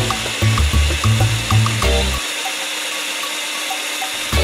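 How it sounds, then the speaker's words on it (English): A drill bores a hole through a ceramic planter pot, giving a steady wet grinding hiss with heavy rhythmic low thumps through the first half before settling into an even whir. "This is an actual footage of how long it's taken to drill this hole."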